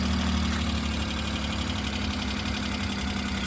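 A 2008 Maruti Suzuki Alto LXi engine idles steadily up close, a constant low rumbling hum with an even, slightly rattly throb and no voices.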